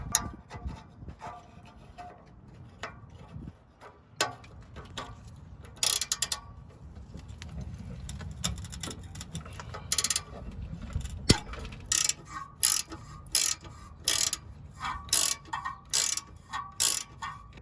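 12 mm ratchet backing out the muffler spring bolts on a 2006-2011 Honda Civic, with quiet scrapes and clicks, then a run of sharp, evenly spaced ratcheting clicks near the end, close-up.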